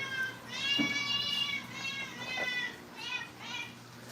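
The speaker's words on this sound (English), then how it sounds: "the cat always likes wet food" A house cat meows repeatedly for wet food, drawn-out whiny cries close by, several in a row over a faint low hum, with no human voice.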